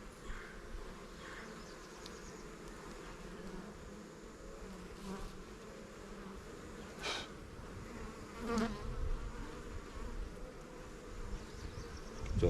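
Honeybees buzzing steadily around an open hive during an inspection of frames heavy with capped brood, a continuous dense drone that swells slightly toward the end.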